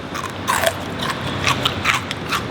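Crunchy bites into crispy deep-fried pork belly skin, boiled first with aromatics and then fried, Balinese style; several sharp crackling crunches in a row, close and fairly loud.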